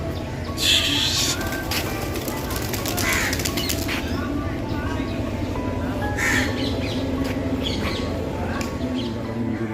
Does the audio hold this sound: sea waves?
no